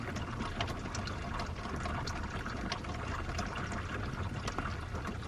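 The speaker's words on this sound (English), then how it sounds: "So you guys can see it right there where it's dripping off at." Water leaking from a car drips and runs in a steady, continuous trickle, close to the microphone, with no voices.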